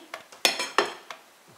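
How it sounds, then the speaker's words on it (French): A utensil scrapes and clinks against a bowl while genoise cake batter is stirred after flour is added, giving a handful of quick, close strokes at an uneven rhythm. "et on va continuer de bien remuer comme ça"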